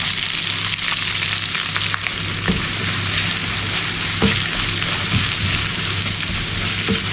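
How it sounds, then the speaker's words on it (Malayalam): Finely chopped onions fry with cumin, black pepper and dried red chilies for kadai chicken: a loud, continuous close-up sizzle like heavy rain, with occasional scrapes of stirring and no voices. "ഈ 2 സവാള പൊടിയായി അരിഞ്ഞത് ഇതിലേക്ക് ഇട്ട് കൊടുക്കാണ്."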